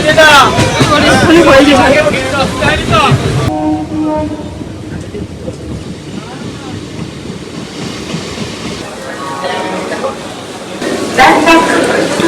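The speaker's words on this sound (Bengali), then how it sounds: "পাশাপাশি দুটো ট্রেন দিয়েছে তো প্রচুর ভিড়" Two crowded trains stand side by side at a busy station, with a loud train horn and rumbling carriages under a dense hubbub of passengers, and people talking close by.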